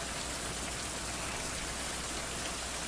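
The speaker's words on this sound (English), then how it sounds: "The rain will make us sick" Steady, loud rain pours down without pause in a survival game, a dense hiss of drops on surfaces with no other sounds.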